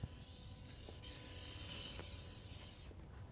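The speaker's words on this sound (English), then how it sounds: "I'm gonna spray some more Lysol in there just because I love it." Aerosol can of Lysol disinfectant sprayed inside a Porsche 968 car interior during a mold cleanup, a steady close hiss lasting nearly three seconds before cutting off abruptly, with no talking.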